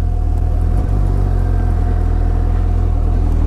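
A 2017 Suzuki GSX-S750 motorcycle engine during a test ride gives a steady, loud, low rumble that holds constant throughout, close to the listener, with no one speaking.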